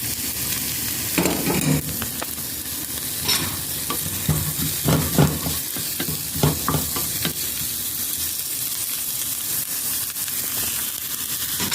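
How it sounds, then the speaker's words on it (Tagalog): Chopped onions fry in hot cooking oil, giving a steady close sizzle broken by stirring scrapes and crackles throughout, with no voices. "Mainit na yung mantika natin. Ilagay na natin ang sibuyas."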